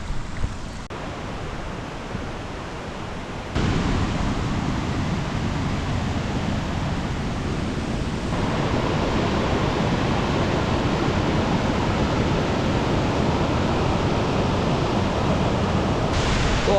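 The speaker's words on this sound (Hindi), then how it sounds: "तो अभी हम ऐसी लोकेशन पे पहुंच चुके हैं जहाँ हमें पार करना है ये झरना।" A mountain waterfall stream on the trek to Rudranath pours in a steady, loud, broadband rush that fills the scene without a break and swells slightly partway through.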